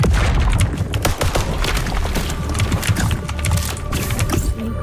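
Explosions in the video game Void Breaker, a sustained loud barrage of booms and crackling blasts with dense rumbling impacts throughout.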